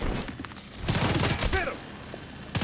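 Gunfire in the video game The Division 2: rapid bursts of shots crackle and thump in quick succession, with a pause in the middle, and a spoken voice and in-game radio chatter mixed among them.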